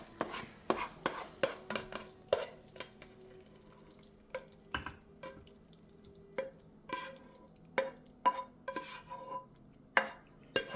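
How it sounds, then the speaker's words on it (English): A spoon scrapes and clinks against a pot while Louisiana-style jambalaya is served onto a plate, giving a series of sharp, close metallic taps and soft shuffling scoops in a quiet kitchen. "I'm going to plate this."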